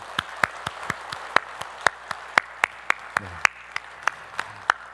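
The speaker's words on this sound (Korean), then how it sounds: "우리 하나님께 큰 감사의 박수 올려드리겠습니다." A church congregation claps in a steady, evenly spaced rhythm of individual sharp hand claps, fairly close and clear, during a Sunday worship service.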